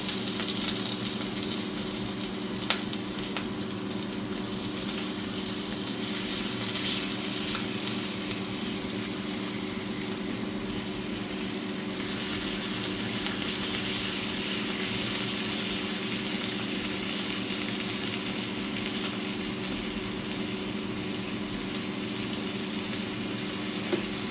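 Bacon frying on an Emtronics induction hob gives a steady, close sizzle and crackle with a constant electrical hum underneath, continuing without a break.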